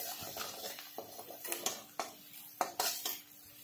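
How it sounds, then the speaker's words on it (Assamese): Onion and panch phoron being stirred in a pan, with a spoon scraping and knocking against the metal in several sharp clatters over a low, quiet background. "এবাৰ লৰাই দিলোঁ এইখিনি"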